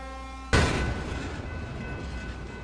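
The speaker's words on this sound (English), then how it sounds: "1521, working as the Industry 3 job on Sunday, October 3, 2021, is delivering 38 cars to the Toledo, Peoria, and Western Railway's East Peoria yard" Freight train delivering 38 cars to the Toledo, Peoria and Western Railway's East Peoria yard near the North Main Street crossing; a sudden loud onset of rumbling railcar noise that stays steady and close, with no voices.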